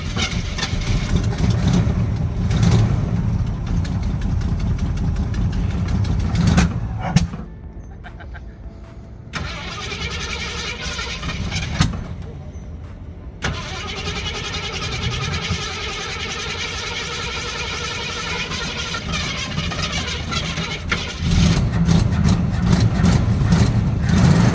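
A 1968 Ford Mustang, a restomod, cranks and catches, then settles into a loud, steady idle. There is a brief drop in the middle and a swell of revving near the end.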